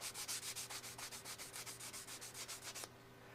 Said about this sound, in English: I take some sandpaper, or a sanding sponge in this case